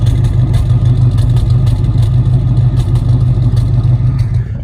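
A Ford 302 V8 idles through a single passenger-side exhaust, loud and close, a steady low throbbing rumble with a fast, even pulse and light clatter on top.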